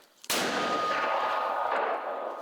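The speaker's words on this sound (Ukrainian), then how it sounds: "Мінометом 120-го калібру працюють по ворожих засідках" A single sharp, powerful 120 mm mortar blast right at the start, followed by a long, loud roaring echo that slowly fades.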